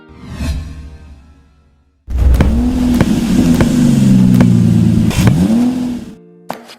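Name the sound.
car engine revving, animation sound effect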